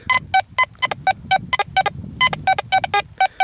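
Quest Q20 metal detector sounding over an iron bar at the surface: a rapid series of short, sharp electronic beeps in irregular bursts, loud and close with no talk.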